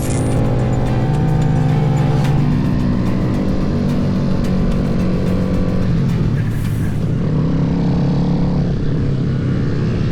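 Motorcycle lane filtering through a roundabout in traffic, a loud continuous engine drone with steady low rumble and passing vehicle noise throughout, no speech.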